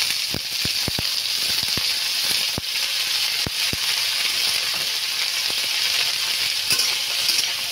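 Vegetables with egg and carrot fry steadily in hot soybean oil, a dense continuous sizzle broken by sharp scrapes and clicks of stirring, close and loud with no voices.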